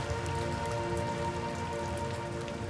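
Rain falls steadily, a dense continuous patter of drops hitting surfaces, even and fairly loud throughout with no voices.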